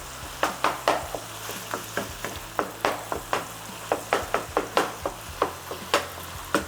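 Ground beef sizzles in a hot pan while a utensil crumbles and stirs it in regular scraping strokes, about three a second, close and clear, with a steady fry underneath.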